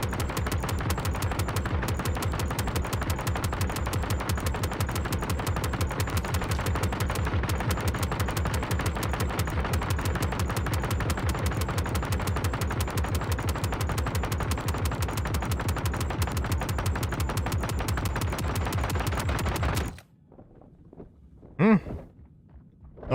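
Rapid automatic gunfire in the space game Star Citizen, shooting at turrets: a dense, sustained burst of loud shots hammering for about twenty seconds, then cutting to near silence with a couple of faint clicks.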